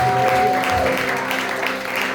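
A church congregation at a Sunday service applauding, a short burst of steady clapping from many hands filling the room, with voices mixed in beneath it.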